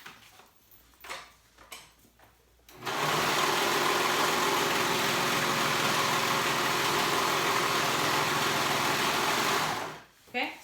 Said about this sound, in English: we're gonna sew them together to make it one continuous skirt.